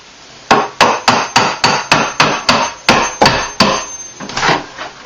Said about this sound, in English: take these trim pieces out, and I'm reusing my cabinet, so I want to be real careful